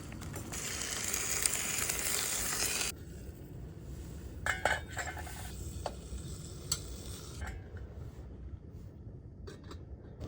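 Food fries in a small camping mess kit pot outdoors at night, a bright steady sizzle that cuts off abruptly, followed by faint scraping, clinks and soft metal stirring sounds.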